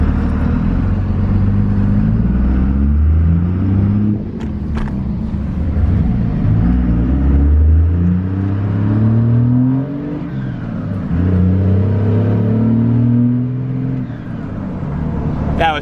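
A 2nd-generation pickup truck fitted with an Edge Comp tuning box accelerates through its gears, a loud, throaty engine rising in pitch, dropping at each shift and climbing again, with a voice talking over it.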